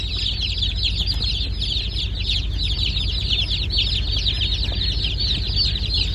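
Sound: ducks foraging

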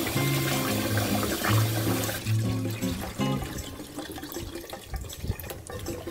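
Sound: rinsing boiled black soybeans under cold tap water

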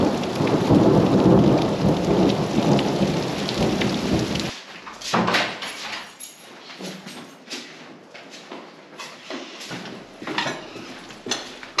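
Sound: thunder during a rainstorm

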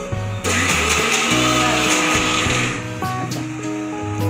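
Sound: mixer grinder grinding coconut and masala

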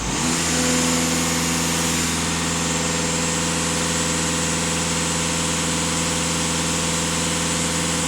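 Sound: Scirocco TDI diesel engine revving

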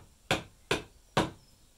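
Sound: chisel tapping wood

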